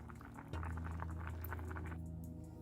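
Spaghetti boils in a pot of water for a homestyle crispy chicken spaghetti roll, giving a steady close bubbling over a low constant hum.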